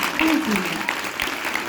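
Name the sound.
applause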